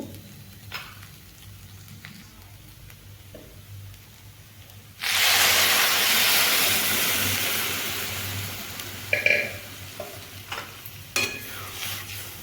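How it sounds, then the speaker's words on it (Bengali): Water pours into a hot pan of chana dal, setting off a sudden loud, sustained sizzling hiss that slowly fades, followed by scattered scrapes and clicks of stirring, close up with no voices. "এবার আমি এখানে জল অ্যাড করব"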